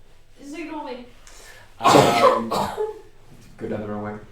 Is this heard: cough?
yes